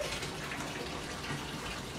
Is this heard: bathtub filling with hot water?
yes